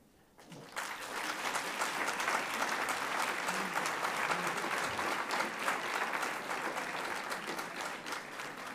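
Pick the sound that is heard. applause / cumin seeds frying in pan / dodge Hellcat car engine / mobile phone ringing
applause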